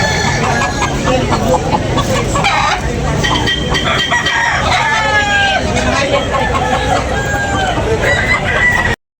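Roosters crow loudly and repeatedly amid a crowd of chickens clucking at a rooster market in Tabunok, Cebu, with busy chatter and voices throughout.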